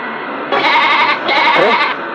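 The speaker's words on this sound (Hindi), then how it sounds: "बकरी के चिल्लाने की आवाज आ रही है" A goat bleats in two loud, close, wavering cries, each lasting under a second, heard over steady background hum in a Hindi-dubbed Tamil romantic film scene.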